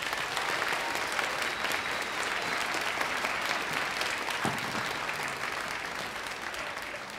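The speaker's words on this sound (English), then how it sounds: "let's have a huge round of applause for our seventh grade band" An audience at a middle school winter concert gives a round of applause for the seventh grade band, broad continuous clapping from many people in a hall that slowly tapers toward the end.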